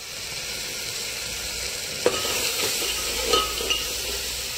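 Spice masala sizzles with chopped tomato in a hot pan while cooking pidalu (taro) and greens, a steady close frying hiss broken by a few sharp stirring clicks.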